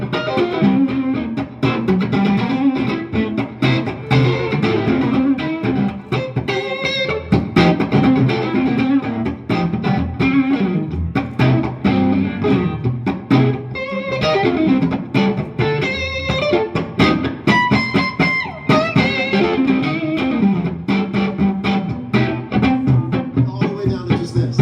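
An electric guitar plays a bouncy rhythmic part through a PRS J-MOD 100 amp with distortion on, the chopped, driven chords loud and close with brief gaps between strums.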